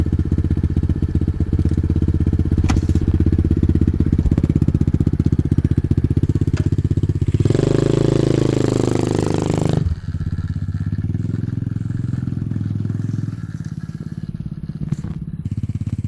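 An SSR125 dirt bike fitted with a Nibbi carburetor runs steadily and loudly up close, its engine drone continuous throughout, with a revving surge in the middle before settling back to a rough idle.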